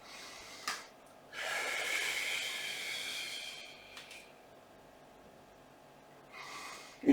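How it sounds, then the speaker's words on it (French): Audible exhales come during a Pilates exercise, two long breathy blows with a few short puffs between them, soft but close against a quiet background. "je descends, je souffle, je souffle, je souffle"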